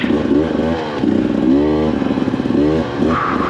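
KTM 300 Factory Edition dirt bike on a fall trail ride, its engine revving up and down close by in rising and falling surges with a buzzy, rattling tone.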